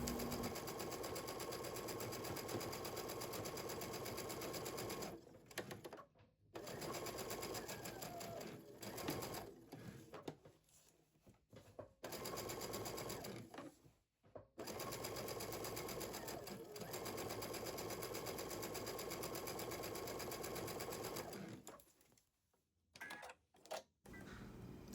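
A sewing machine stitches cotton fabric onto a holiday stocking, running in steady whirring bursts separated by short pauses, close and alone with no talk.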